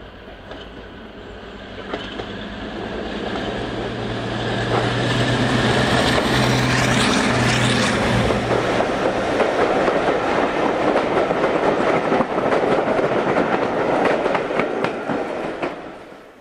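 Onslaught, a Maybach-engined diesel locomotive, climbing towards Wirksworth, with a deep engine drone and rumble swelling as it nears and passes, a steady clatter of wheels and rails, and a whining tone, loud throughout.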